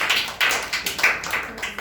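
Scattered audience clapping for a student at a school storytelling competition, a run of quick sharp claps rising and fading in short bursts close by, with no voices over it.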